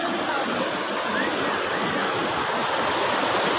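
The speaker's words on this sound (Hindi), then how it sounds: "ये घोघड़ मंदिर का नदी है" A river at Ghoghar temple near Rourkela rushes steadily, a loud, constant broadband wash of flowing water with no pauses.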